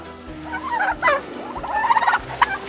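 Pasture-raised farm turkeys on grass gobble in a few close, warbling bursts, one rippling call after another over a quiet outdoor background.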